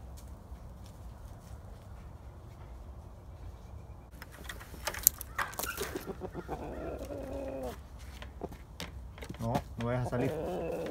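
Feather-footed chickens and a buff rooster cluck and murmur nearby on a farm, intermittent and moderately loud, with a person talking over part of it.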